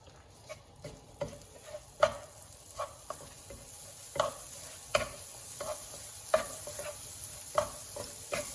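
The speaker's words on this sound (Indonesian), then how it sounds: "Tumis sampai wangi." A stirring utensil scrapes and taps in a frying pan of spice paste over a steady background sizzle, with irregular knocks every second or so.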